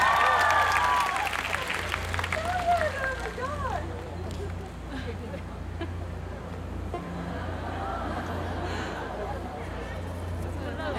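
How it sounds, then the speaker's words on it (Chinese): An audience at a concert breaks into applause, which is loud at first and then fades beneath amplified talking and a murmuring crowd. "佳慧，掌声鼓励"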